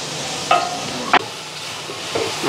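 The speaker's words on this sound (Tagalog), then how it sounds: "kasalukuyang ginigisa yung kanyang sibuyas, bawang at luya" Onion, garlic and ginger sauté in a pan for sinigang, giving a steady close sizzle broken by a few sharp stirring scrapes against the pan, with no talking.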